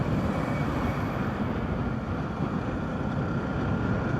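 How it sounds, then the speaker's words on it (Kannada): Strong wind on a rainy day in Maharashtra roars steadily and loudly against the microphone with no break, as a constant, dense rush. "ಅಷ್ಟು ಗಾಳಿ"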